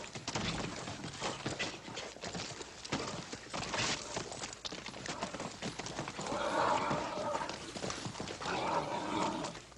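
Horse hooves clip-clop in a western drama scene with horse wrangling, a busy patter of steps through most of the clip along with other noise.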